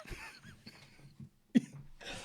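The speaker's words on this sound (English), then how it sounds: "This is cough." A person coughs up close, a short rough cough and throat clearing with quieter murmuring noise around it.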